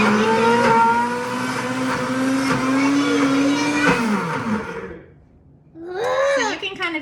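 A blender whirs loudly while pureeing cauliflower, its motor pitch slowly climbing before it dies away, and then a short burst of sound follows. A voice is also heard.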